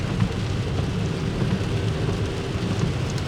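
Rain pours steadily on a car driving down a road in Athens, making a dense, continuous hiss and rumble that stays level throughout with no voices.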